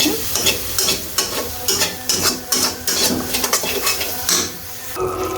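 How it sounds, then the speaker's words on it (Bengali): Spices being stirred into chickpeas in a pan, a spoon scraping in quick repeated strokes over a steady sizzle, close and fairly loud with no talking. "খুব ভালো মতো করে এখন এটাকে মিক্স করছি।"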